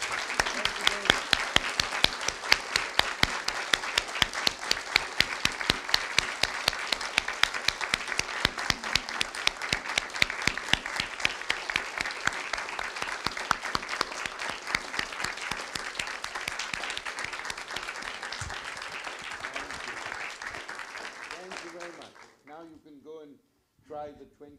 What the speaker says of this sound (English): Let us make one big round of applause.